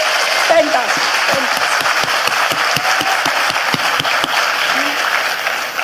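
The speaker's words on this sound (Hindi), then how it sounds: "तो एक बार जोरदार तालियां अपने लिए बजा दो" A crowd claps and applauds steadily for several seconds, a dense patter of hands with a voice briefly audible underneath.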